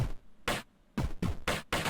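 Drum hits from a Sonicware Liven 8bit Warps with a chorus effect applied, about six punchy, bright hits in a loose pattern, each with a short swirling tail, heard alone.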